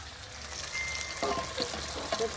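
Chicken fries in a pan with masala and tomato, giving a soft, continuous sizzle with light stirring scrapes in the second half.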